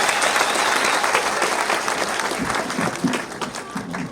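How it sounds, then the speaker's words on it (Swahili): An audience at a public event applauds with steady, dense clapping that fills the clip. A voice is faintly heard near the end. "Makofi tafadhali."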